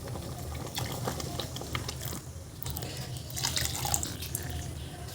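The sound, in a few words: washing pressure cooker and pouring water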